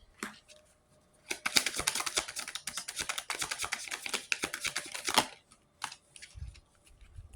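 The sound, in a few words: tarot cards being taken out and handled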